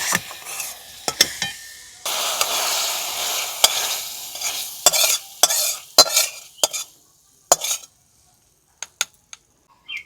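Homemade pizza sauce being stirred in a pan as excess water cooks off, with a soft sizzle broken by repeated sharp spoon scrapes and clicks against the pan, fading to near silence toward the end.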